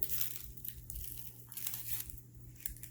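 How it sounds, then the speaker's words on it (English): Tape is peeled off a fabric purse in a short, faint run of close crinkling and tearing, with no talking. "take off this piece of tape up here"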